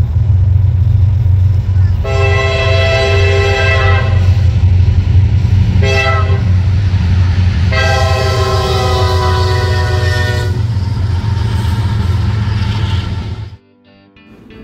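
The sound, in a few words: freight train horn, Union Pacific locomotive on the D&H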